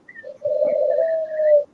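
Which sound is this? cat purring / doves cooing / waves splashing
doves cooing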